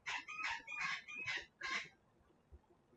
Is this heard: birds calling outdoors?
yes